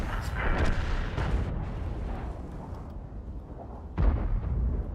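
A tank gun fires in World of Tanks, with a deep, booming blast up close followed by a rumbling tail and a second heavy shot a few seconds later, all over steady game background noise.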